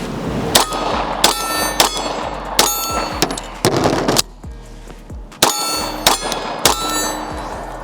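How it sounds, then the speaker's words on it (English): Sharp, loud shots from a Sig P365 pistol fired in quick clusters, with metallic clanks of magazine swaps between them and a brief quieter gap midway; no talking. "I'm gonna do a couple shots and then swap mags without the slide locking back."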